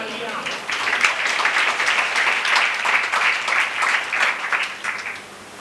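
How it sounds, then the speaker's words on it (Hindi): A church congregation applauds in a continuous burst of many hands clapping that lasts about five seconds, with a voice faintly underneath. "तालियां बजा रहे हैं, अच्छी बात है"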